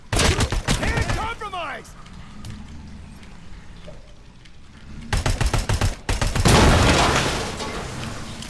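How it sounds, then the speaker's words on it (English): Stationary OCP turret in the RoboCop video game unleashing heavy gunfire in loud rapid bursts, with a lull of lower rumble before more dense bursts of fire return near the end. "Uh-oh. OCP turret. Stationary enemy has heavy fire."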